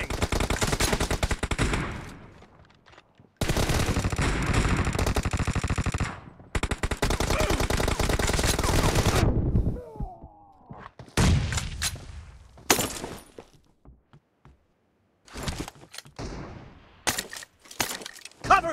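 Automatic gunfire in PUBG Mobile team deathmatch: loud, close bursts of rapid shots with short silent gaps between them, then scattered single shots and quieter bursts toward the end.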